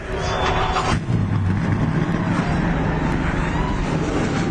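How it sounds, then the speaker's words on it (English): Race truck engines roar loudly at the MNRL Speedway, a dense continuous rumble with a sharp jolt near the start as the trucks fire up together. "drivers have fired their trucks and have come to life here tonight at the MNRL Speedway"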